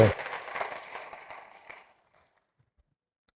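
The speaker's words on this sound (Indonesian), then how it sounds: "Berikan tepuk tangan begitu" A church congregation breaks into applause during a sermon, a dense burst of clapping that starts loud and fades out over about two seconds, leaving near silence.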